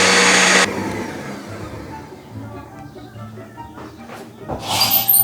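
A blender whirs loudly for a short burst mixing mayonnaise, then cuts off, leaving quieter kitchen clatter and people talking nearby.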